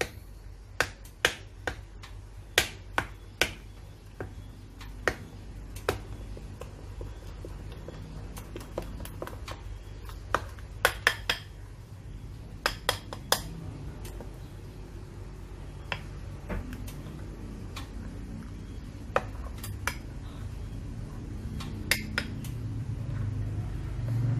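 Apem batter made with cassava tape and grated coconut being stirred in a bowl: irregular, sharp little clicks of a utensil knocking the bowl, sometimes in quick clusters, over a low, steady background hum.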